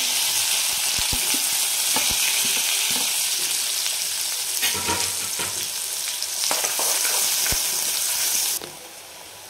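Chopped onion hits hot oil already holding cumin and asafoetida, for a radish chutney. It sizzles loudly and steadily, with scattered stirring clicks, and the sizzle fades near the end.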